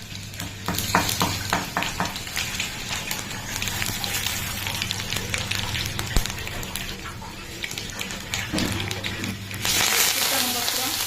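Spices crackle and sizzle in hot oil during tempering for a home-cooked greens dish, a dense, steady frying hiss that swells louder near the end.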